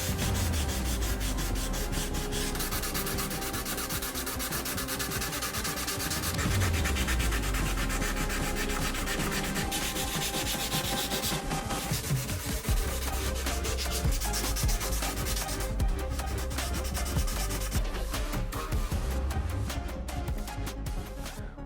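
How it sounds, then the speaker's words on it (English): Steady, gritty rubbing of hand sanding a 3D-printed helmet, continuous strokes back and forth at close range with no talking. "Keep sanding until those sound disappears"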